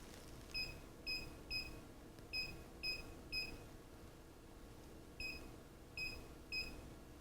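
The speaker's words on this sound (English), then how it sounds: "as we touch any of the keys on the display, we'll hear a confirmation beep" Short electronic confirmation beeps sound from the touch keys of an EL700 display keypad, a few irregularly spaced chirps in two clusters over quiet background hum.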